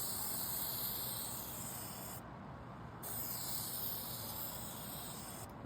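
Clear coat sprays onto a restored car headlight as a steady, close hiss in two bursts separated by a short pause, with the second burst trailing into a brief gap near the end.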